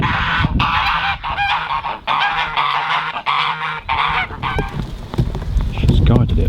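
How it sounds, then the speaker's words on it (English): Geese honking loudly and repeatedly in a spring forest garden, harsh overlapping calls close by with brief gaps between bursts. "I can highly recommend geese."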